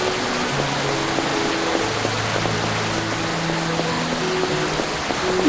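Heavy rain in Sakura School Simulator makes an even, continuous hiss with faint tonal music notes drifting underneath, with no speech.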